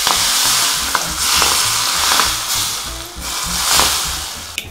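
Chili and chives sizzle in very hot oil, a steady loud frying hiss with repeated sharp scrapes and clinks of a utensil stirring through the pan, and no voices.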